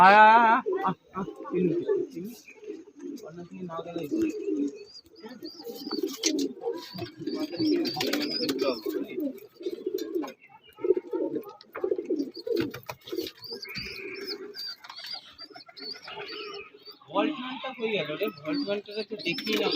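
Pigeons released on a rooftop coo in low, rolling murmurs through most of the stretch, under near-continuous human talk, with a few brief sharper bird calls mixed in.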